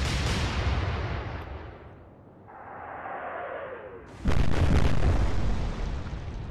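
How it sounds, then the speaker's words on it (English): Naval shells hit ships in a video game as heavy booming explosions roll out in a sustained burst, fade briefly, then a second loud blast erupts and rumbles on, with no talking. "hits and explosions in the smoke"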